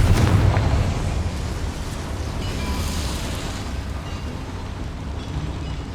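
A Confringo spell explosion in Hogwarts Legacy goes off with a heavy opening boom, then a broad rumbling roar that slowly fades over several seconds.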